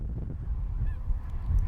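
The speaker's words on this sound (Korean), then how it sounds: "호수엔 철새들이 마치 섬처럼 떠 있다." A flock of migratory Baikal teal rests on a lake, giving soft, distant honking calls over a low rumble of wind and water.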